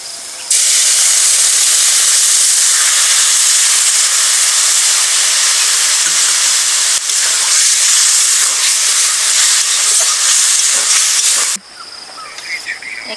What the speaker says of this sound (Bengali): চিনি রসটা ফুটানো দিয়ে দিচ্ছি